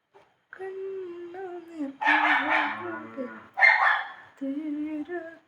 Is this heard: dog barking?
yes